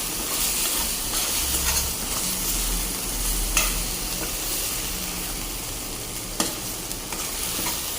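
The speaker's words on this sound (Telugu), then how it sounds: "బాగా డ్రైగా ఫ్రై అయిపోయింది" Masala for prawn curry frying dry in a pan, a steady close crackling sizzle with occasional sharp scrapes of a stirring spoon, continuous with no talk.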